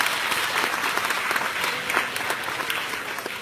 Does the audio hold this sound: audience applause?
yes